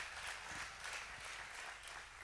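A room full of people applauding steadily at a competition final, a soft, even wash of clapping heard from a distance.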